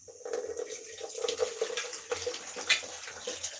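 Tap water runs steadily while something is washed, a continuous splashing flow with a few sharper clatters and no talking.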